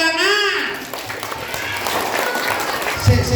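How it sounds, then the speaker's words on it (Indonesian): Children's audience clapping at an Islamic Maulid Nabi celebration, a burst of many small hands applauding after a voice speaks at the start, moderately loud and close, tapering toward the end. "Oke, tepuk tangan."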